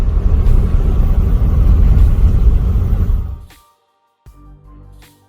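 A car with a frozen back wheel rumbles along loudly and steadily, then the noise cuts off abruptly into near silence before a quieter low rumble returns.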